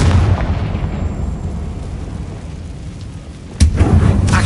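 Booming explosions from the Bombarda and Confrigo spells in Hogwarts Legacy, set in a closed mine: a loud blast opens, its rumble decays over a few seconds, then a second heavy burst hits near the end.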